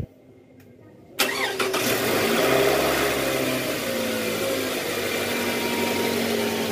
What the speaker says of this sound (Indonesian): Sekarang kita mau hidupin mesin setelah ganti balancer shaft dan seal cover valve.